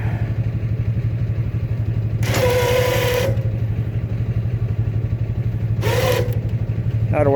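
A four-wheeler ATV engine idles steadily nearby with a constant low rumble, while two short bursts of higher whine or clatter rise over it partway through.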